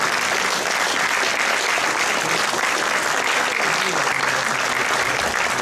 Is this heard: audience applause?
yes